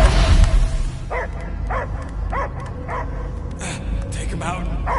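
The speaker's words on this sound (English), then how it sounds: "I hear only barking." A dog giving a series of short, evenly spaced yips and barks, about seven in a row, heard at moderate distance over a low rumbling background in a film scene.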